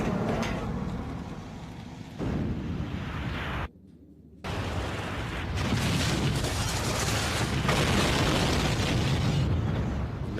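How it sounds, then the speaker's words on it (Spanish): Loud, sustained roar of a Texas oil refinery explosion, a dense rumbling blast that drops out briefly to near silence, then returns louder and fuller, filling the scene with continuous thunderous noise and no voices. "Nunca había oído un estruendo tan ensordecedor."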